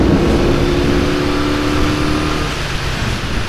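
A 1973 BMW R60/5 airhead motorcycle engine pulls hard at full throttle in third gear, a loud, steady droning growl that rises in pitch before easing off near the end, with no talking.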